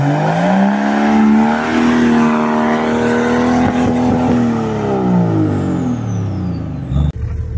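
A rescue service vehicle's engine drones steadily and loudly up close, rising and falling in pitch as it drives, with no talk over it.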